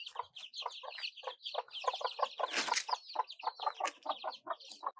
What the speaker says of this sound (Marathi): पण आमच्या कोंबडा सांगा.